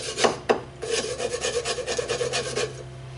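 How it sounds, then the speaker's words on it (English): A knife blade scrapes rust off a piece of metal in quick repeated rasping strokes, close and fairly loud, with no voices. "We're going to scrape the rust off of this and into"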